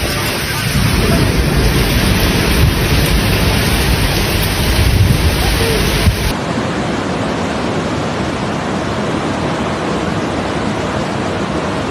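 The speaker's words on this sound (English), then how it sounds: "a massive storm slammed into Catalonia, Spain, turning quiet towns into scenes of chaos." Heavy rain pouring during a powerful storm in Catalonia, Spain, a dense, loud, unbroken roar with low rumbling underneath, dropping slightly in level partway through.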